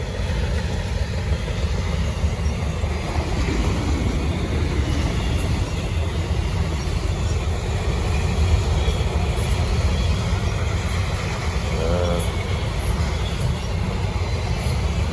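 A Conrail locomotive leads a freight train past, a loud, steady rumble of rolling cars and wheels filling the whole stretch with a brief squeal near the end.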